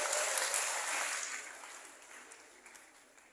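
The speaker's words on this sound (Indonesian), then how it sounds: "Tepuk tangan dulu lagi sekali lagi buat tamu kehormatan kita." An audience at a youth forum applauds for the guests of honour, a dense wash of clapping that starts strong and gradually fades toward the end.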